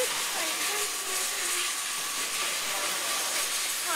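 Steady broadband rushing and hissing of a train pulling into a London station, with faint squealing tones from the wheels and brakes.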